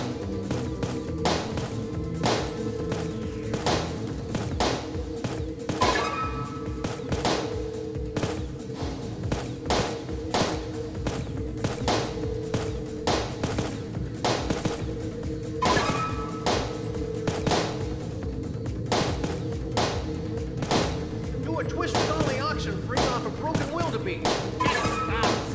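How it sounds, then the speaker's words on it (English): Enemy gunfire in the VR game Sam & Max: This Time It's Virtual, a steady barrage of sharp rapid shots and thuds over continuous game music. "Hey, why are they shooting me?"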